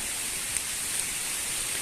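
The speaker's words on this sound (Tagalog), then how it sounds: "So, inulan na po tayo." Steady rain falls over a farm lot with a small hut in San Juan, Batangas, making a continuous even hiss close by with no talking.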